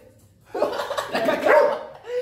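A dog barks and yelps close by in a rough, excited run lasting a couple of seconds.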